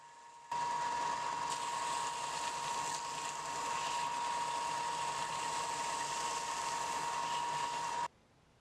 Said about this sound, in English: I'll go ahead and sand the sheath down to its final shape